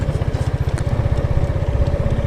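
On a test ride at Baguio City Technohub, an Xciting VS 400i Limited Edition scooter runs with a close, steady, rapid engine pulse and a throbbing low rumble. Nobody talks.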